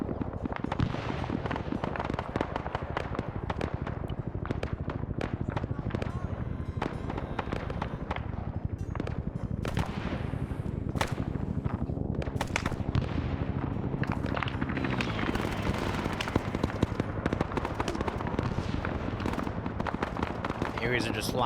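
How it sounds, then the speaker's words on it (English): Grenades and heavy blasts going off in a Vietnam War combat video game, a dense, continuous barrage of loud booms and crackling detonations with gunfire mixed in, running nonstop throughout. "Oh, or those are just grenades going off."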